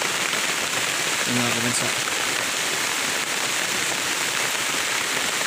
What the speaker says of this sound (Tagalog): Lakas ng ulan mga kabansa, hindi lang halata sa video.